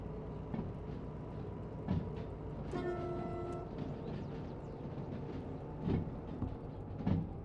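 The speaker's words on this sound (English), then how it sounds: "And then that means we get to listen to the train horn." A locomotive in the Derail Valley train game gives a single short horn blast of under a second, a steady chord sounding over the low continuous rumble and clatter of the rolling train.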